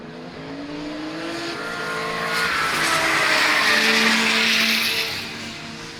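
An 1100 hp Audi RS3 races at a Growl racing event, its engine rising into a loud, strained roar that swells toward the middle and fades again, with tyre squeal and no talk over it.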